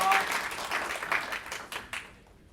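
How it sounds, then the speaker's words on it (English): Conference audience at DevOpsDays Singapore 2015 applauding the sponsors, scattered clapping that starts fairly full and thins out, with a few last distinct claps near the end. "So please just join me in giving them a round of applause."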